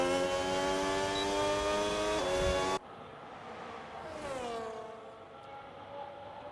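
A Red Bull Formula car in a racing video game roars at high revs, then cuts sharply to a quieter engine note as it brakes and drops down through the gears, with a sweeping pass-by whine near the end.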